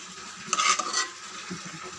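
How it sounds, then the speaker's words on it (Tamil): A ladle stirs cooked toor dal in a pot with scraping metallic strokes, including a louder burst of stirring partway through, close and alone with no talk. "நம்ம மத்து போட வேண்டாம் கரண்டி வச்சு நல்லா கலந்து விட்டுடலாம்"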